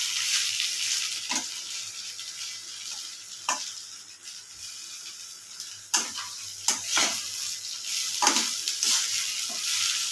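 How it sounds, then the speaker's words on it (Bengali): Pre-roasted lentils fry in a spice mixture in a pan for khichuri, a continuous soft sizzle broken by repeated scraping and clinking stirring strokes. "ডালটা মশলার মধ্যে দিয়ে দিয়েছি, ডালটা একটু ভেজে নিচ্ছি।"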